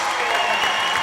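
Crowd cheering and applause fill a girls' varsity basketball game gym, a steady, loud, dense roar of many voices and clapping that holds throughout.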